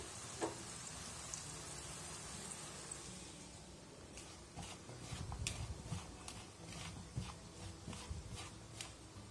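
Okra frying in hot oil in a home kitchen, a steady soft sizzle with crackling pops that grow busier and louder in the second half, close and continuous with no talking.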